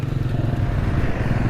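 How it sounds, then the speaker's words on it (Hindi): A motorcycle engine chugging at low speed up a badly broken, waterlogged road at a Godhra street climb, a steady close rumble with a rapid pulsing throb and no voices. "ये देखिए किस तरह से बाइक आ रही है"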